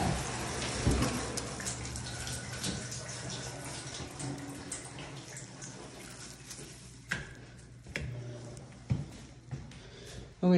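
Water running from a bathtub tap in an apartment bathroom during a pressure check, a faint steady splashing and rushing with a few louder knocks and clunks.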